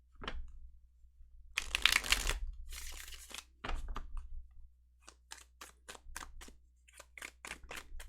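Tarot cards being shuffled close up, with a dense papery riffle burst followed by a string of quick, crisp taps and flicks as the deck is squared and cut, with no talk.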